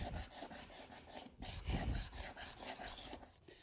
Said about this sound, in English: I've switched to a smaller scraper. Same idea, same shaped blade, just gives me a little more precise control.